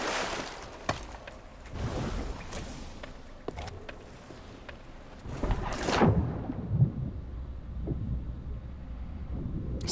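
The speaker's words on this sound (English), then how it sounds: "Is somebody attacking my ship? I heard cannons." Cannon fire in a pirate ship video game, with several deep booming blasts rolling out over wind and sea ambience, the heaviest burst near the middle before fading into a low rumble.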